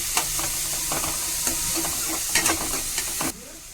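Onion, coriander and green chilli fry in a pan with a constant bright sizzle, punctuated by repeated spoon scrapes and taps, before the frying sound suddenly drops away near the end.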